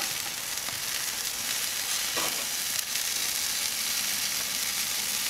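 Butterflied chicken drumsticks sizzle on a King Griller Gambler grill, a loud, steady, dense crackle of frying fat that holds throughout with only tiny pops and no talking.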